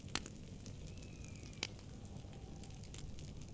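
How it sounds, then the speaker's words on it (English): A campfire crackles at a campsite in a camping simulator game, with a few sharp pops standing out over a faint, steady ambient bed, quiet and close, with light bird calls faintly present. "we can hear the fire crackling"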